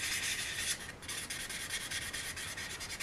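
A very high grit sanding pad rubs steadily across the surface of a resin anime figure in continuous back-and-forth strokes, close and fairly soft, with no talking.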